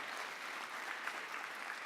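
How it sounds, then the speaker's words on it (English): An audience at a community college race dialogue event claps for panelists, a dense, steady burst of applause heard from a distance and fairly faint. "Let's give our panelists a round of applause"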